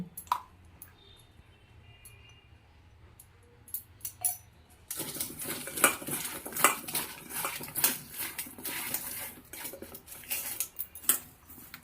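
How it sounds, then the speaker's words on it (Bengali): Cut potatoes and cauliflower are tossed with salt and turmeric in a metal bowl, first with sparse faint clinks, then a sudden burst of busy close rattling, scraping and clattering of pieces and utensils, no talk. "কেটে রাখা আলুতে আর ফুলকপিতে লবণ হলুদ মাখিয়ে দেব"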